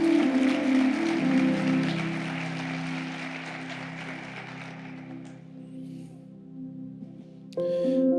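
A church congregation applauding in praise during a sermon, steady clapping that fades gradually over several seconds before a brief swell of music or voices at the end.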